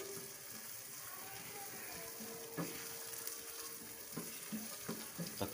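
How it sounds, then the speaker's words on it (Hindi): Chana dal sizzles steadily in hot oil in a pan as it is fried, a constant close crackle broken by occasional scraping stir strokes near the end. "ये देखिए, इसको अच्छी तरह एक बार भून लेंगे"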